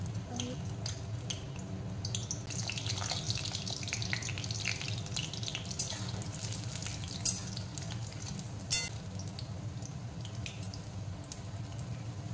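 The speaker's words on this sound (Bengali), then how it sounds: "এবার আমি সবজিগুলি ভেজে নেব। প্রথমে আমি আলুগুলি দিয়ে দেব।" Potatoes and vegetables frying in oil in a wok (kadai) for shukto, a steady low sizzle with scattered crackles and pops and occasional stirring clinks, close and continuous without talk.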